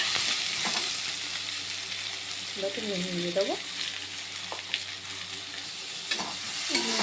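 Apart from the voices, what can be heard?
vegetables frying and being stirred in a pan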